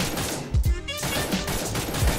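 Gunfire bursts in Cyber Hunter, a couple of heavy close shots followed by rapid distant firing over constant background noise.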